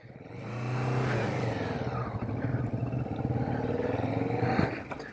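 A Kawasaki Vulcan S motorcycle engine runs while being ridden, with a steady, close, throbbing hum that swells as the bike accelerates and holds a rough, pulsing drone with wind noise.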